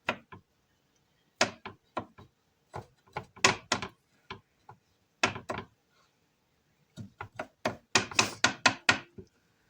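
Peeled garlic cloves being cut very small with a knife on a board, sharp close knocking chops in quick irregular bursts separated by short pauses, no voices.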